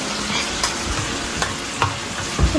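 Chicken pieces sizzling in hot oil for a cooker chicken biryani, a continuous close frying hiss with a few soft stirring scrapes and no voices.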